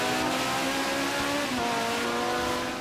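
A Ferrari 458 in the Forza Horizon 3 racing game on a wet surface, its engine droning loud and continuous, pitch climbing and shifting as it accelerates through the gears with no break.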